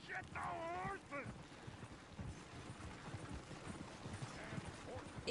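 Horse hooves clip-clop softly in Red Dead Redemption II, a faint, uneven patter of steps under wind-like hiss, with a brief voice early on.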